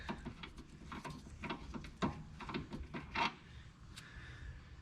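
An inner tie rod on a BMW 3 Series is broken loose and unthreaded from the end of the steering rack: faint, irregular metallic clicks and ratcheting ticks close by in an otherwise quiet space.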